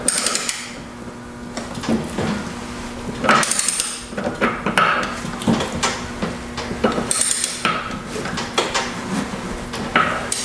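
A torque wrench ratchets and clicks while a Kubota zero-turn mower is repaired, giving sharp, close metallic clicks every second or so amid faint workshop movement.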